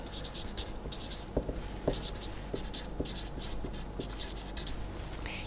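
Writing on a board during a lecture, a continuous run of close scratchy strokes with small taps in an irregular rhythm, no talk.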